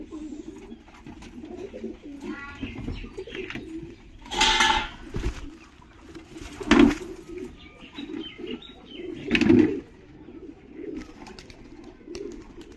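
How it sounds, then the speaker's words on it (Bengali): Pigeons coo nearby in low, soft, rolling calls, with several bursts of flapping wings as birds take off, and faint voices talking in the background. "এই যে ওর পায়রা উড়ছে"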